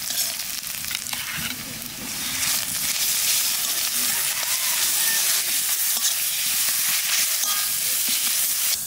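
Dried chilli frying in hot oil in a pan while squid is being cooked, giving a loud, steady, close sizzle with stirring scrapes throughout and no talking.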